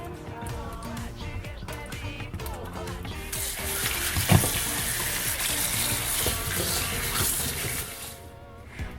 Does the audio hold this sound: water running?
yes